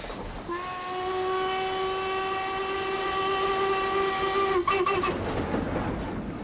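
A steam train's whistle blows a long steady chord for several seconds over the rumble of the moving train, then cuts off abruptly.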